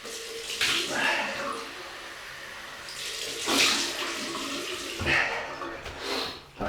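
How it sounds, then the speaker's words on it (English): Tap water runs for a cold rinse after a shave with a G.S.C. Cappuccino II double-edge razor, a steady splashing hiss in a small bathroom with louder gushes as hands or face pass under the stream. "I think we'll go for a cold water rinse."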